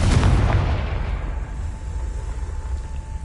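A Confringo fire spell bursts in Hogwarts Legacy, a loud booming blast up front that decays into a rumbling tail over a few seconds.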